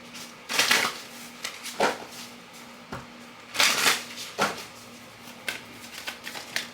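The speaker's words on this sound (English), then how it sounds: "Let me give a quick shuffle." Tarot cards are shuffled in several quick riffling bursts with short pauses between, close up against a faint steady hum.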